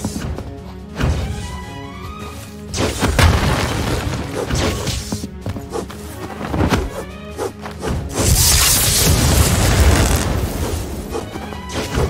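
Explosive blasts hitting the player in the video game My Hero Battlegrounds, loud booms and crashes repeating through a busy game mix, with the heaviest burst near the end.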